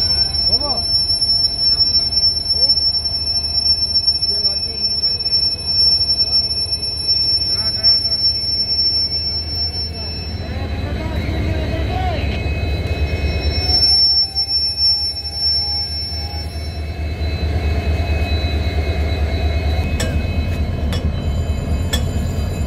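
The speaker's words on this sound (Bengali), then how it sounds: "আমাদের এখন নতুন ইঞ্জিন লাগানো হচ্ছে, আসছে" A fresh locomotive coupling onto the Kanchanjunga Express at a station on the Kolkata to Agartala run, steady loud rail rumble and hum with squealing metal, a high whine and clanks toward the end.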